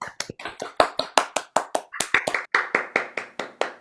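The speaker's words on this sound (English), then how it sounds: "Keep clapping. Keep clapping." An audience claps at a student studio recital, a close, loud series of sharp claps in an uneven, lively rhythm that continues without pause.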